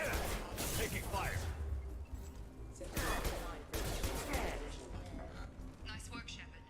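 Gunfire in the Mass Effect 2 video game, bursts of rapid shots and impacts in several clusters, loud and close, with talk running over much of the firing.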